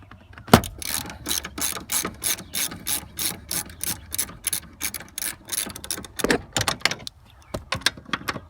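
A socket ratchet clicks rapidly and loudly while loosening 14mm seat bolts in a 2010 Toyota Corolla S interior, with bursts of pawl clicking broken by short pauses.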